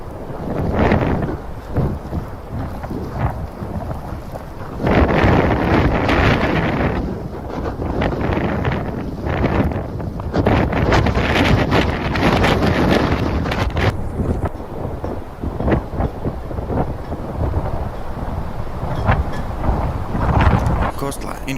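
Blizzard wind from the Buffalo snowstorm roars and buffets against the microphone in long, gusting surges, with voices faintly underneath.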